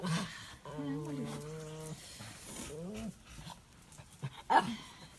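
A dog whimpers and whines in drawn-out, wavering cries, followed by soft panting and small yips. It sits close, with a person speaking quietly nearby.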